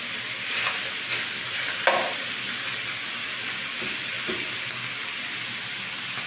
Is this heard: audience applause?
no